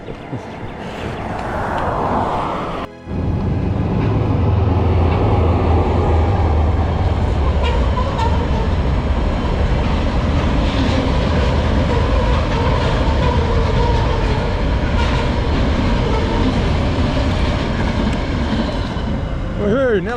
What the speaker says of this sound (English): It's a train! It's a train! It's a train!